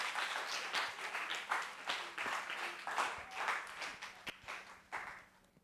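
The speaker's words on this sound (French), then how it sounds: "Sous vos applaudissements, s'il vous plaît." Audience applause at a student journalists' festival broadcast, a modest crowd clapping in loose uneven bursts, soft and somewhat distant, tapering off at the end.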